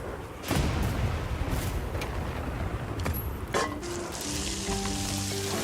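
Meat grills in Monster Hunter Wilds, giving a steady, close frying sizzle with a low rumble under it, a few sharp pops, and soft game music tones coming in near the end.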